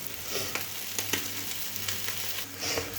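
Small kachki fish sizzle steadily in hot oil, a continuous close frying hiss with a few faint utensil taps and no voices.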